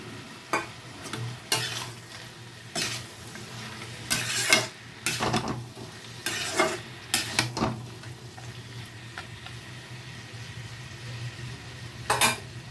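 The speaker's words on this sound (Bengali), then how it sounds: "এখন আমি এর মধ্যে দিয়ে দিব আগের থেকে ভেজে রাখা বড়ি উচ্ছে আর ইয়ে, করলা আর বেগুন এটা আমি সবটা পুরোটা মিশিয়ে দেব" Fried bori, bitter gourd and eggplant being stirred in a pan, giving a low sizzle under irregular clanks of a utensil against metal. No one speaks.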